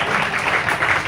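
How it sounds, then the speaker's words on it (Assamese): Audience applause at an award ceremony honouring dedicated service, a short dense burst of many hands clapping together, steady and fairly loud throughout. "গতিকে এটা হাত চাপৰি লাগে"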